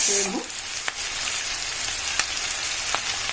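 Ginger-garlic paste fries in a curry pan with a dense, continuous sizzle. A few faint taps of stirring are heard close up.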